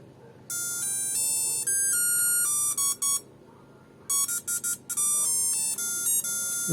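Shrill electronic alarm beeps from a digital wall clock in fast repeating patterns, switching between tones, loud and close with short pauses.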